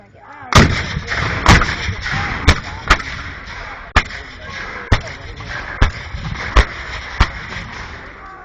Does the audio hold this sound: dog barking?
no